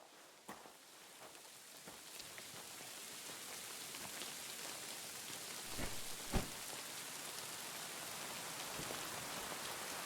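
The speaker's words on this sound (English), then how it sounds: "It'd be better if it wasn't raining, though." Steady rain falls continuously in the video game Kingdom Come: Deliverance II, hissing evenly with a few louder drips and spatters standing out now and then.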